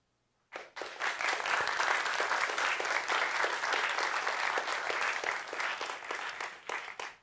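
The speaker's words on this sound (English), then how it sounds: "big applause for AuthConf and the volunteers, please" An audience at a tech conference bursts into applause after a talk, a sudden dense round of clapping that starts abruptly, holds steady and loud for several seconds, then tapers off.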